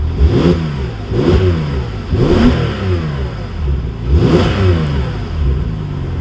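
A Porsche 911 Targa 4S engine, heard from inside the cabin, revs repeatedly in close, loud bursts about once a second, rising and falling with a throaty mechanical tone and no talking.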